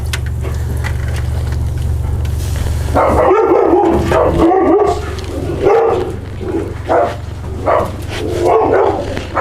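Several dogs bark repeatedly in uneven bursts, fairly close, after a few seconds of low background hum.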